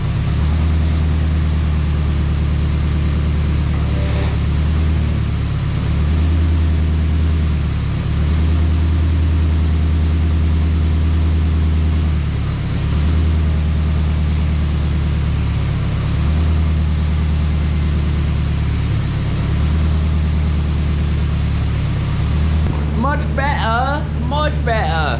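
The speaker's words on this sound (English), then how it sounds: "let's lower this thing down, start it up, get the power steering going, and see if I got rid of the noise." A Nissan 240SX engine runs steadily close by, a continuous low rumbling hum that holds level throughout before a brief clattering noise near the end.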